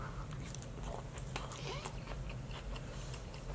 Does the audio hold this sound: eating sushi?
yes